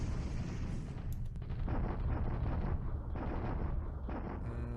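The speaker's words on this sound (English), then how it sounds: "Well, it's just a bombardment." Bombardment effects from the War in the Pacific video game: a dense, continuous barrage of rumbling booms and cracking blasts, loud and unbroken for several seconds.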